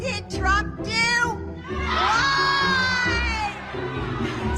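Rally crowd at a political event shouting back a loud collective response, many voices overlapping with children's shrill cries, sustained and close for several seconds after a brief burst.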